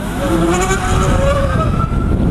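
Zero SR/F electric motorcycle accelerating, a rising whine climbing in pitch over steady road and wind roar, loud and close.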